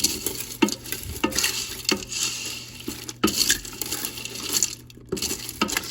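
Egg noodles are stirred in water and olive oil inside a Ninja Foodi pot, producing close scraping, sloshing strokes with irregular clinks against the pot, with no talking.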